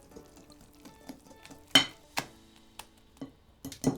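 Chocolate cake batter is mixed in a bowl with minimal whisking, a quiet near scrape and swish punctuated by several sharp knocks of the utensil against the bowl.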